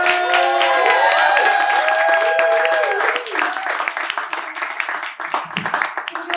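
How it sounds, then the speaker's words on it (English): Audience at a live late-night comedy show applauds a comedian taking the stage, dense steady clapping and cheers from many hands, tapering into scattered claps near the end. "Guys, get the round of applause going for Reem Edan!"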